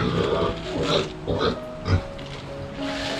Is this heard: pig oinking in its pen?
yes